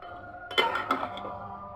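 A metal lid clinks down onto a pot of simmering lentils and jute greens, giving a short cluster of bright chinks and a rattle that settle quickly over a quiet kitchen background.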